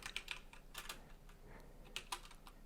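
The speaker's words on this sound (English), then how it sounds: "we can go ahead and type our title." Rapid keystrokes clatter on a computer keyboard, a quick irregular run of close, crisp clicks in short bursts.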